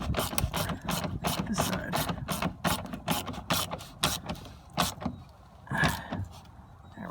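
Rapid bursts of ratchet clicking as bolts on a Jeep Grand Cherokee 5.7L splash guard are tightened, close and loud in repeated runs, with a brief voice speaking near the start.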